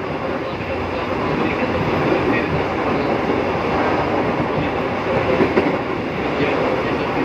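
A KRL commuter electric train of 14 cars rolls past Lenteng Agung station in a loud, steady rumble with a broadband rush of wheels and rail noise that holds constant from start to end, with no voice over it.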